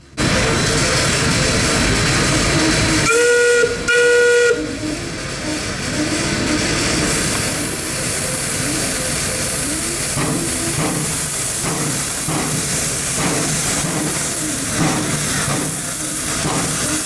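A miniature-gauge steam locomotive, the Kittyland Limited, pulls out of a museum station with a loud two-toned whistle blast, then steady steam hiss and rhythmic exhaust chuffs picking up pace.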